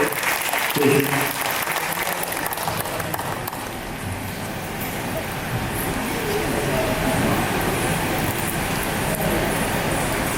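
An audience applauds two honoured guests at a charitable trust's first-anniversary award function. The clapping is loud, dense and sustained throughout, with faint voices mixed in.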